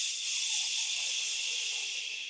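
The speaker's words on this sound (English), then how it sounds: "you're going to exhale with a whooshing sound, like you are blowing out the candles of a birthday cake" A steady, breathy whoosh of air pushed out through the mouth, like blowing out birthday candles, sustained evenly for about two seconds, close and alone with no talking.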